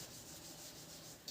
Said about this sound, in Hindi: हम इसको इरेज कर रहे हैं।